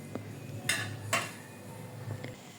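A utensil stirs egg-coated peanuts frying in a pan, giving a few scraping clinks over a steady low sizzle.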